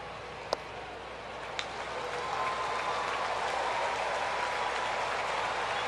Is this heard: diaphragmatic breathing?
no